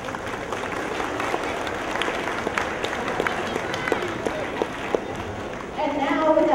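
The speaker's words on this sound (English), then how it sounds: "Give yourselves a round of applause." Audience applause at an elementary school all-town strings concert in East Hartford, honoring staff and families: dense, steady clapping from a large crowd that holds for several seconds and swells louder near the end.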